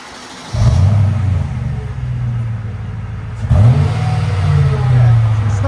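A 2005 Mercedes CLK 55 AMG with a 5.5L V8 and muffler delete revs up close and loud, holding a deep rumble before a second sharp blip and sustained revving.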